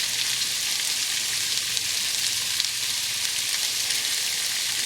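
Zucchini and broccoli stir-frying in a large pan, a loud dense hissing sizzle that holds steady without a break, with no voices.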